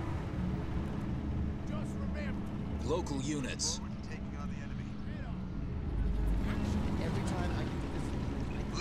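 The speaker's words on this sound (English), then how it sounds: "Listen to that engine purr" Warthog vehicle engine from Halo Wars 2 rumbling steadily in a low, continuous drone under game radio chatter and battle noise, with voices talking over it throughout.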